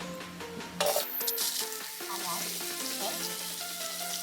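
Onion hits hot oil in a pan and bursts into loud steady sizzling for a milkfish soup, with a short spoken word and music playing underneath.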